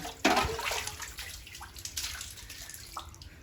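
Water drawn up from a shallow well at the Kokilavan Shani Dham temple splashes and gushes in short bursts, close and fairly loud, with no talking.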